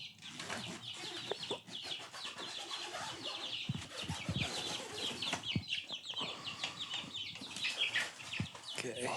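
Several show chickens cluck and chatter close by, with busy overlapping calls, scattered rustles and wing flaps, and faint speech in the background.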